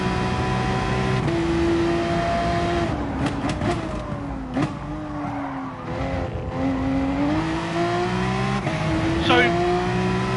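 A race car in Gran Turismo Sport at the Red Bull Ring revs through gear changes while the hot tyres squeal and slide out of the corners. The engine whines close and steady, with bursts of shrill tyre screech.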